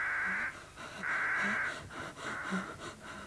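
Crows cawing in a vegetable patch, a series of harsh, rasping calls repeating in uneven bursts, fairly close and loud, with short gaps between them.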